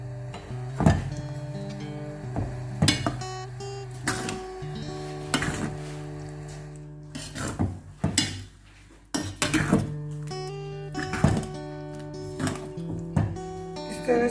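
Spoon stirring lemon pickle with jaggery in a pan over a low gas flame, making repeated metallic scrapes and clinks against the pan in an irregular rhythm, close by, with no talk.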